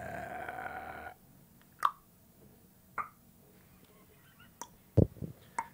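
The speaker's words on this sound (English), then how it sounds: "Burping. burping." Burping in the horror film Hereditary: a few short, isolated wet pops and clicks in near silence after a brief stretch of background noise, sparse and faint.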